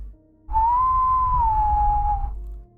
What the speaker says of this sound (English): Whistling. Just 3 notes, long, low,